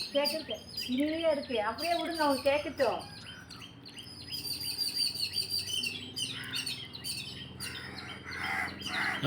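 Sparrows chirp and squabble nearby in rapid, busy bursts of tweets, with a burst of shrill calls early on and scattered chirping continuing after.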